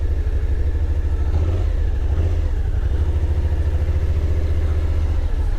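Suzuki SV650 2022 learner-legal twin-cylinder motorcycle engine pulling on the throttle, a steady loud mid-pitched drone with low throbbing rumble that swells gently as it accelerates, heard continuously without talk.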